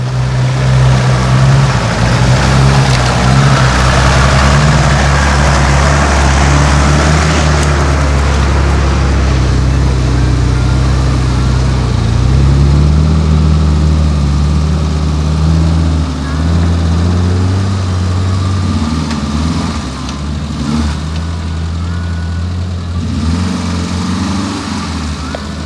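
Suzuki 4WD three-cylinder engines idling and driving on hilly off-road tracks, a steady loud low engine drone with shifting pitch as revs rise and fall, a voice speaking over parts of it.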